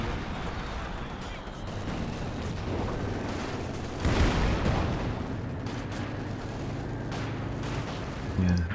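Bursts of machine gun fire and heavier blasts from a war video game, rattling continuously under a dense battle din with a louder hit partway through; no voices stand out.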